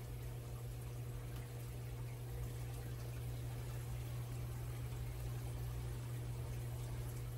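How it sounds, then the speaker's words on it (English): Water poured into a small rice cooker already holding rice, a steady, moderately loud wash of splashing liquid running continuously throughout over a constant low electrical hum, with no talking. "We're going to pour right on in our little rice cooker."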